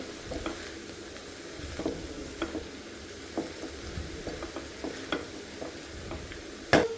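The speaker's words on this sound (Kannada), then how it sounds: "ಇದನ್ನು ಇವಾಗ ಚೆನ್ನಾಗಿ ಮಿಕ್ಸ್ ಮಾಡಿಕೊಳ್ಬೇಕು" Beetroot palya with coriander sizzles in a pan while a spoon stirs it, a soft frying hiss punctuated by regular light scrapes and taps, with one louder clank near the end.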